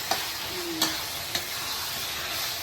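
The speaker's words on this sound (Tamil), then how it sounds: "மஞ்சள் தூள் போட்டு நல்லா இந்த எண்ணெயில் வந்து நல்லா கொஞ்சம் வதங்கணும் கத்திரிக்காய்" Brinjal with turmeric sautéing in oil, a soft continuous sizzle broken by three light scrapes or taps of a spoon in the pan, no voices.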